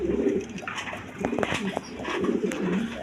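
Several pigeons coo nearby in soft, rolling, overlapping calls over a low background hum.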